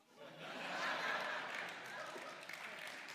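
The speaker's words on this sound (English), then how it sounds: "Now, you shouldn't clap," Lecture audience breaking into applause after a one-liner, a soft hall-filling patter of clapping mixed with a few chuckles that rises quickly, holds, then thins out.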